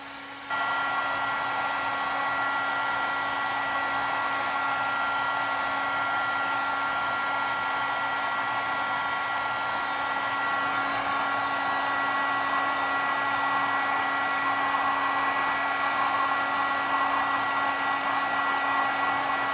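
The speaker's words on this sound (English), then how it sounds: "So let's now emboss this." A heat embossing tool blows hot air in a steady, loud, close whir that runs unbroken for nearly twenty seconds with a constant electric hum, alone with no voices.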